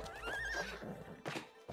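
A horse whinnies in the It Takes Two video game, a bright wavering neigh with hoof clops in a short burst, followed by fainter game sounds.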